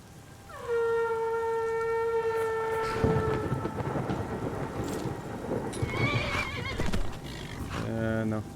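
A horse in the video game Skyrim gives one loud, clear whinny near the start, followed by clip-clopping and thunder-like rumbles with rain, and a brief horse snort near the end.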